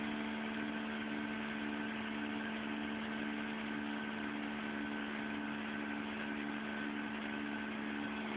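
A small 3-volt electric motor runs steadily, driven hard from a 12-volt supply, giving a continuous even hum with stable tonal lines and no pauses or talk.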